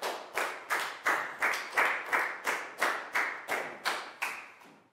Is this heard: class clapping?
yes